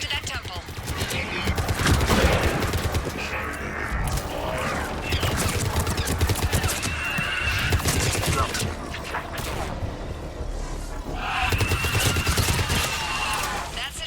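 Dense sci-fi battle in the game Mass Effect, with sustained rapid gunfire and missile blasts layered over a loud, busy mix of mechanical whirs and effects throughout, close and continuous, with some voice-like bits in the mix.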